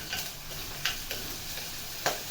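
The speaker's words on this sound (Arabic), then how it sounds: "تتشوح في الثوم." Minced garlic sautéing in a pan, a soft steady sizzle with a few sharp clicks of a spoon against the pan, no voices.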